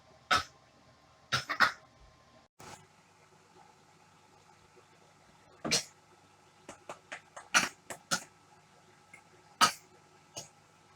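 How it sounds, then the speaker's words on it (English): Several sharp, bursty coughs come in irregular clusters separated by quiet pauses, close to the listener. "Everybody cough sometimes."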